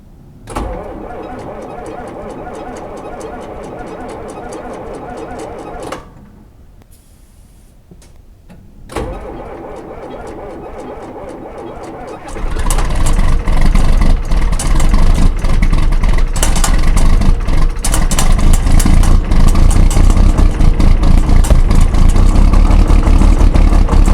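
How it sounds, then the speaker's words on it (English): John Deere 4430 tractor cold-started on a morning, with a cranking whir, a short pause, more cranking, then the diesel catches and settles into a loud, steady rumbling idle that runs to the end. "for all you guys that like morning cold starts, we'll see if we can get the 44 started"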